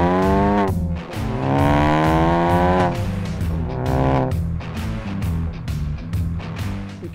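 Loud, close exhaust note from a COBB-tuned Ford Focus ST with large downpipe and big outlets, rising and falling through several throttle revs with a raspy, buzzing roar and quick pops between surges.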